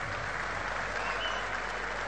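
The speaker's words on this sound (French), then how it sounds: "Sous les applaudissements du public." A basketball crowd applauds an injured player, a steady, fairly faint wash of clapping heard from a distance that holds evenly for a couple of seconds.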